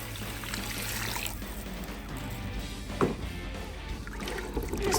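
Water poured into a pan of toasted quinoa with chicken stock for Persian saffron quinoa, a continuous splashing pour with a few knocks, close, with no speech.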